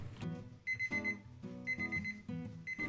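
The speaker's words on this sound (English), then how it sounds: "I'll set the timer for 25 minutes" Kitchen timer alarm beeping in repeated bursts of rapid high electronic beeps, loud and close, set for 25 minutes while beef roasts in an oven at gas mark 9, with no talk.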